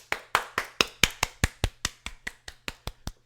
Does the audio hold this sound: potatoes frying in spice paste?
no